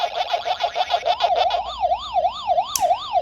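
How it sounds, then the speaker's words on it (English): The Pac-Man arcade game siren wails in a looping electronic up-and-down tone that clearly speeds into quicker sweeps partway through, loud and alone with a short bright blip near the end. "The siren got faster."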